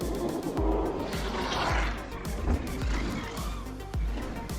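Electric motorbikes race in a FIM E-Xplorer World Cup round in Catalunya, Spain, giving a dense whirring drone with repeated low thumps and scuffs from the tyres, loud and close throughout, with no clear speech.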